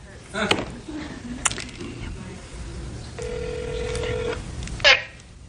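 A telephone keypad dialing voicemail: a few short, sharp key tones spaced apart and a steady held tone in the middle, over light room noise.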